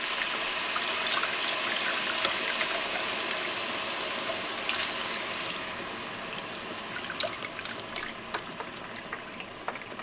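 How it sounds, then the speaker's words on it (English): Water trickles and splashes into a pot of butternut squash soup, a soft steady pour with faint clinks, quiet and close. "You're going to add 1 cup of water"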